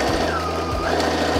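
A sewing machine runs in short motor bursts, stitching folded fabric string ties lengthwise, loud and close with no one talking.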